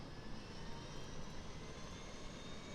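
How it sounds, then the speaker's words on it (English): The electrical power unit of an Aerosoft CRJ900 airliner spools up in Microsoft Flight Simulator. It makes a steady, dense broadband roar with a high whine, heard from outside the aircraft and unchanging over the short stretch. "let's get the fuel pumps on, and we can go ahead and spool up the EPU"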